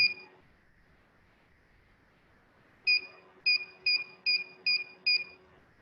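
An IoT proximity sensor gives a short electronic beep, then after a pause a run of six quick, evenly spaced high-pitched beeps when an object comes closer than 5, clear and close in a quiet room.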